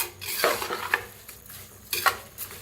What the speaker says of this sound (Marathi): असं जरा तेलात भाजलं का नाही तांदूळ छान होतात असं फडफडीत भात